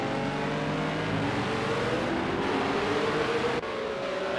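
GT3 race cars lapping the Red Bull Ring GP circuit in Project CARS 2, a dense steady roar of several engines with rising pitch as they accelerate, loud and continuous throughout.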